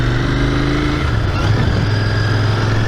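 Motorcycle engine, loud and close, holding a steady droning hum that shifts pitch partway through as it drops a gear, with no talking.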